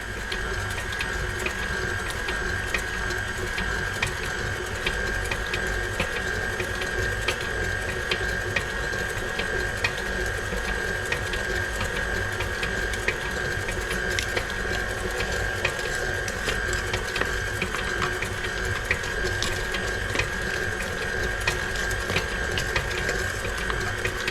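A stand mixer fitted with a paddle attachment beats orange velvet cake batter, giving a steady mechanical whir with faint rhythmic clicking that continues unchanged for the whole stretch.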